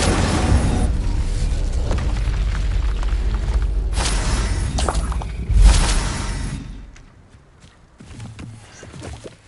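Casting the Incendio fire spell in Hogwarts Legacy brings a loud roaring blast that rumbles for several seconds, swells into a heavy boom, then fades to quiet scattered sounds.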